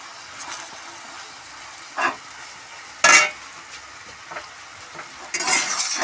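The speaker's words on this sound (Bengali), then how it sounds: "এটাকে একটু নেড়ে নেবো দিয়ে।" Chow mein noodles with potato and tomato are stirred in a frying pan, a soft background sizzle broken by a few short scraping stirs and clanks at uneven intervals.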